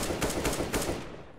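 Rapid automatic fire from an AK rifle in Counter-Strike: Global Offensive, a dense burst of repeated cracking shots lasting about a second before trailing off, loud and close with no voices.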